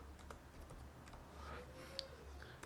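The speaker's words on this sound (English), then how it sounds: "I'm gonna type in localhost" Typing on a computer keyboard, faint, quick light key clicks tapped in an uneven run against quiet background hum.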